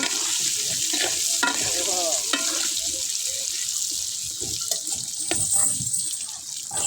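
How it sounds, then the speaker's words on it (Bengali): Potatoes frying with turmeric in a village kitchen, a loud continuous sizzle and crackle with scattered scrapes and clatters of stirring running through. "আলুগুলো আমরা বেজে নিচ্ছি হালকা হলুদ দিয়ে"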